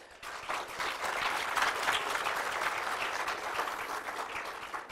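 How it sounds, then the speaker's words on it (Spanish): An audience applauds at an award ceremony for a children's drawing and painting contest, a steady wash of many hands clapping that swells quickly, holds evenly for several seconds, and tapers slightly at the end. "A todos ustedes un aplauso, los compartimos"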